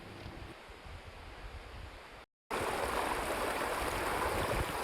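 Cold water rushing down the Subhadra Dhara stream on the Kedarnath to Badrinath route, a continuous broadband roar with no talk, briefly cut to silence midway before resuming louder.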